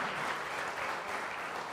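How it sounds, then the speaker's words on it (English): Faint, steady applause from a conference audience for a panel on management lessons from the Cricket World Cup, dense continuous clapping with no voices. "big warm round of applause to the great panel"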